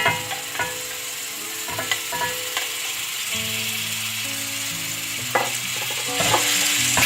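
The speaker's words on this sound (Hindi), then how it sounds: "सबसे पहले ऑयल डाला, इसके बाद इसमें गोश्त डाल दें।" Pieces of mutton fry in hot oil for Peshawari namkeen gosht, giving a loud, continuous sizzle broken by scraping and clinking stirs in the pot, with a low tonal hum running underneath and no voices.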